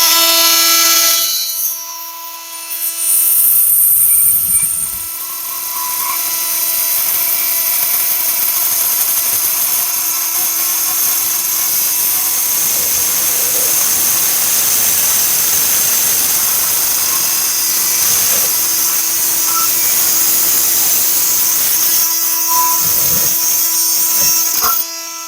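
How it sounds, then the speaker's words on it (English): An oscillating multi-tool blade cuts slowly through nails with a sustained, buzzing whine that holds steady for over twenty seconds, with no talking. "I'm just going to take this through some nails"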